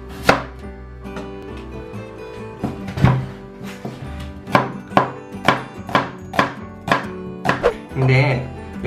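Onion chopped on a cutting board with a knife in a home kitchen, a series of crisp, fairly loud knocks at an uneven pace, close by, with faint background tones and little talk.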